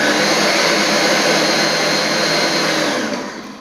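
A steady, loud electric mixer whirs while creaming butter with white granulated sugar for a lemon sponge cake, a constant high motor drone that eases off slightly at the very end.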